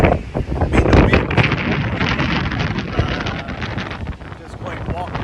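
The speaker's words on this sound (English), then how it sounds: "I mean, the wind." Strong hurricane wind from Hurricane Francine in Lockport, Louisiana, roaring and buffeting against the microphone in loud irregular gusts that ease slightly toward the end.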